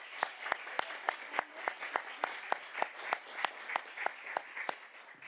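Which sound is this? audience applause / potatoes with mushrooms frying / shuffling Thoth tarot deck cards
audience applause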